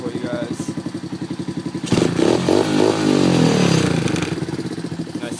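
An x18 motorcycle fitted with a custom exhaust and running without a CDI idles with a rapid, steady pulse, then is revved into a loud, rising roar that holds before easing back toward idle, close up.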